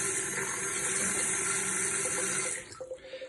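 Cold mains hard water runs from a tap in a steady, close hiss and splash for a few seconds, then the flow is shut off and only a few faint drips and gurgles remain.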